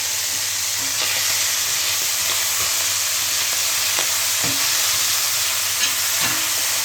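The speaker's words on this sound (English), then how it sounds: "We're going to bake the meat here nice and brown." Meat for a Zurich tranché frying in a pan, a steady close sizzle with occasional scrapes and stirs of a spatula, no talking.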